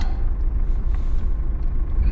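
A four-wheel drive car crossing a ditch makes a steady, loud, low rumble, close up, with no talk.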